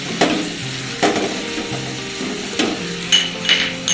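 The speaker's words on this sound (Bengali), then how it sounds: "এবার এটা ভালো করে নাড়াচাড়া করে মাখিয়ে নিতে হবে।" Pasta with vegetables and ground pepper stirred in a pan, a few soft scraping and tapping strokes of the utensil over a low sizzle.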